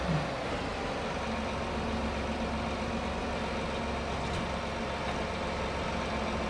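A tractor engine idles steadily in Farming Simulator 25, a loud, even low-pitched drone that holds without change, with no talking.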